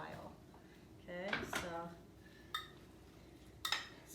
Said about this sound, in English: Grab a spoon and let's mix this together and let it marinate for a while